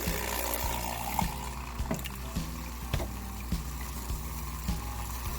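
Water pours and trickles into a rock tumbler barrel holding Lake Superior beach stones and a drop of dish soap, a faint, close splashing with scattered small knocks and clicks.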